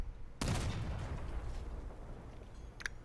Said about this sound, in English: let's shoot the soccer ball with a cannon